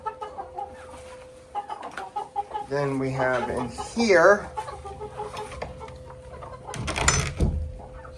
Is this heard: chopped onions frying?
no